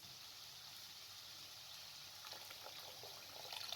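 About a cup of water poured into a pan of frying vermicelli with chicken powder while making a spicy savory snack, heard as a steady, faint hiss and trickle that swells a little toward the end.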